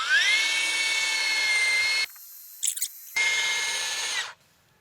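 A power drill bores into the hard trunk of a red sanders tree, whining loud and steady for about two seconds, pausing briefly with a few small knocks, then whining again before stopping.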